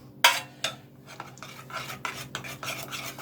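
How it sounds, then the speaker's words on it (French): A mixture stirred vigorously with a spoon in a dish, quick repeated scraping and clinking strokes with a sharp knock at the start, fairly quiet and close, with no talking. "Très important de bien mélanger énergiquement."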